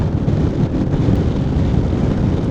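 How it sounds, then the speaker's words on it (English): Strong wind buffets the microphone while riding a Honda CRF1100 motorcycle, a loud, continuous low roar throughout with no voices. "So bloody windy, man."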